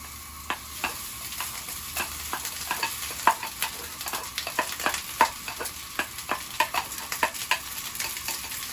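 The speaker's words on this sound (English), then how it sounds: "We can start putting the rice into the fry pan." Rice being stir-fried for Chinese fried rice in a smoking-hot pan over maximum flame, with a soft continuous sizzle broken by frequent sharp scrapes and taps of the spatula against the metal.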